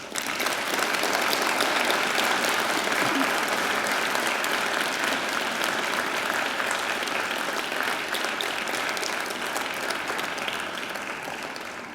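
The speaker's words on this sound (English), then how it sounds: "And now I invite you to give them a mighty round of applause." Sustained applause from a large graduation ceremony crowd of families and friends, dense and steady for the full length, slowly tapering toward the end.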